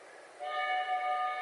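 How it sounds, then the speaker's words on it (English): A train pulls into a station, a steady sustained horn-like tone rising in at mid-clip over low rumble and continuing to the end. "The train is arriving at the station."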